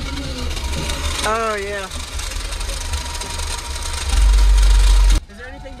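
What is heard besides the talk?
car engine with rough-sounding cooling fan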